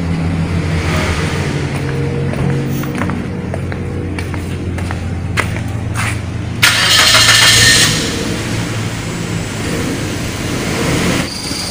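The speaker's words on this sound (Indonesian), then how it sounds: "kemudian kita hidupkan kendaraan." A car is switched on for an emissions test, its engine starting with a brief surge and then running steadily at a medium pitch, fairly loud and close throughout.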